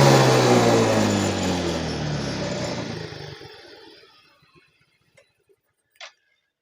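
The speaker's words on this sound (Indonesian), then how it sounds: "Kita gas full lagi." A Yamaha Mio M3 scooter with a sputtering, faulty ECU, its engine roaring loudly at full throttle, then winding down over several seconds to silence, followed by a few faint ticks and one small knock.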